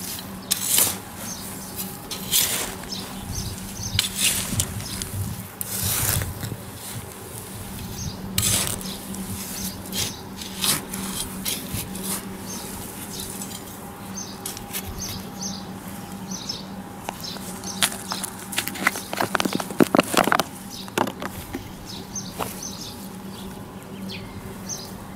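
Small garden trowel digging a planting hole in garden soil for carnations, giving repeated close scraping and crunching strokes in irregular bursts, with birds chirping outdoors in the background.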